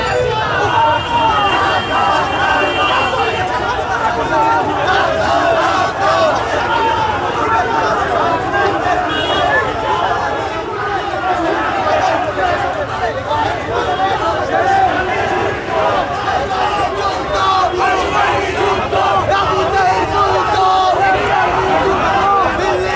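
A large crowd of students and citizens marching in a Dhaka street protest over an embassy attack chants and shouts in a constant, dense roar, with a reporter's voice over it.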